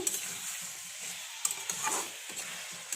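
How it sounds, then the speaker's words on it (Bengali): Soybean chunks and potatoes being stir-fried in a pan: a soft, steady sizzle with scattered light scraping and clinking of a spatula, fairly quiet and close, with no talking. "সোয়াবিন আর আলুগুলো দিয়ে দিয়েছি, দিয়ে আরেকটু কষিয়ে নিব"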